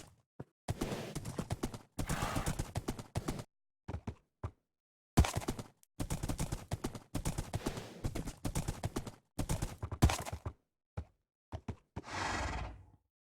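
Donkey in the Minecraft video game, a series of repeated braying and neighing calls in close, loud bursts with short pauses between them, ending in a longer drawn-out call.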